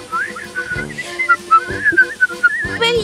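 A whistle sounds in short wavering tones, loud and close, over a busy background of music and thuds.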